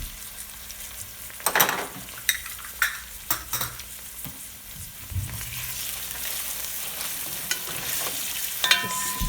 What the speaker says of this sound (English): Add the garlic and ginger paste.